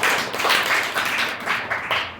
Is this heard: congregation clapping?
yes